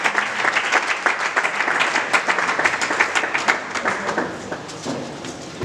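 A church congregation claps together in steady, dense applause, loud and continuous with sharp overlapping hand slaps, fading slightly toward the end.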